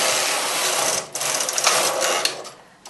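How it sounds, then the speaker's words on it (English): A domestic knitting machine's carriage is pushed across a row of needles from right to left, giving a close, continuous rasping whir that lasts a few seconds with slight surges before tapering off at the end, with no talking. "knit 1 row from right to left, bring the adjacent needle forward and take the carriage back"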